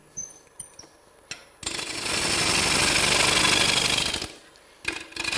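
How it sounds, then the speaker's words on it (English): A bowl gouge cuts into a spinning wooden platter on a lathe, shaping the bottom: a loud, steady rasping roar lasting about two and a half seconds, framed by faint ticks and knocks before and a brief resumption at the end. "So this is a bowl gouge that I'm using."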